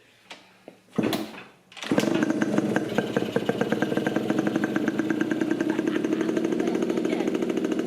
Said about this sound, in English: I have the choke on, and it's idling.